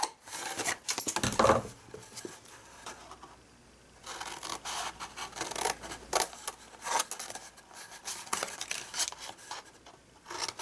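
Scissors snip repeatedly through cardstock, cutting wedges out of a handmade gift box, with quick close crisp cuts in bursts separated by brief pauses.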